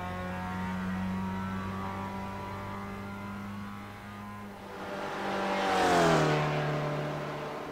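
A race car lapping Bathurst in iRacing, its engine holding a steady high whine, then rising in pitch and volume as it passes nearby before settling back down; no voices.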